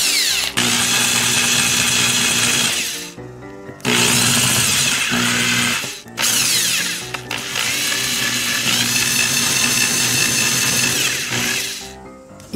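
A power drill with a countersink bit cuts an angled seat into an aluminum part, running in three long, loud whining bursts with short pauses between them and a ratcheting mechanical chatter underneath.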